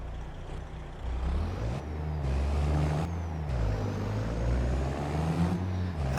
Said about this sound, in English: So what we need to do is get the truck attached first.